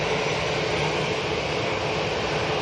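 A Jet2 Airbus A321neo jet airliner roars steadily as a loud, continuous broadband engine wash with no breaks, sounding close and alone with no voices.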